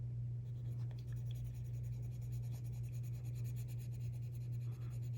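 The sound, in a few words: colored pencil shading on paper, cadmium orange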